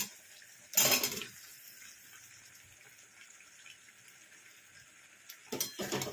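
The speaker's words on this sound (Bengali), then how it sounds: "এর মধ্যে এবার সেদ্ধ করা আলুগুলো দিয়ে দেবো" Boiled potatoes drop into a pan of cooked-down spice mix for paneer dalna, making a quick clattering splash, then a quiet stretch and a second softer burst of clatter near the end.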